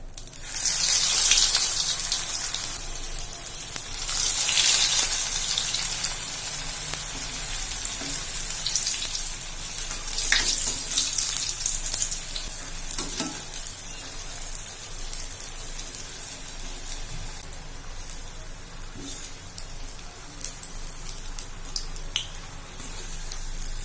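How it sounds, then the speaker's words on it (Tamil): Steady, dense sizzling and crackling of paneer fingers deep frying in hot oil, with occasional sharper pops over a continuous hiss. "எண்ணெய் காஞ்சிருச்சு இப்போ ஒன்றா போட்டு பொறிச்சிக்கலாம்"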